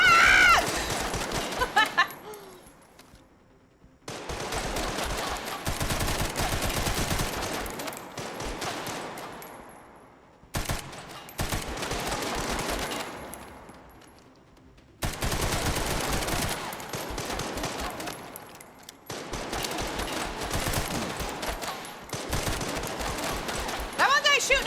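Video game gunfire, with bursts of rapid automatic shots and volleys in several long stretches separated by brief quiet gaps, loud and close.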